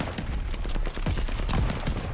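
Call of Duty gunfire on the Shipment map rattles in a dense, continuous barrage of rapid overlapping shots, loud and chaotic with no pause.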